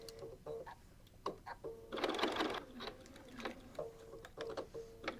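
A sewing machine stitching fabric for a composition notebook cover: short bursts of rapid mechanical stitching, broken by brief pauses as the work pivots at corners, fairly close and moderately quiet.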